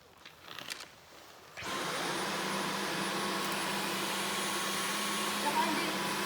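A Dyson V15 cordless vacuum cleaner starts up after a few quiet rustles and runs with a loud, steady whirring drone and faint high whine, close by and unbroken.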